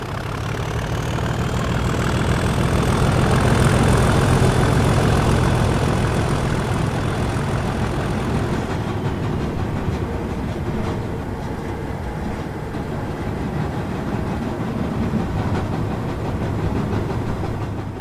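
Class 37 diesel locomotives 37683 and 37689 hauling an intermodal freight train through Stafford: loud, steady engine roar with rolling wagon noise, passing close by and slowly easing as the train moves on.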